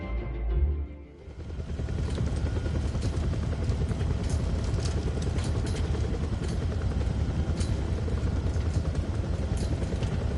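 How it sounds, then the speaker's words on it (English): Helicopter in the video game Dead Rising 4, a steady loud rotor and engine drone that starts after a brief quieter moment and runs continuously with a dense, even chop. "Once again, back on a helicopter."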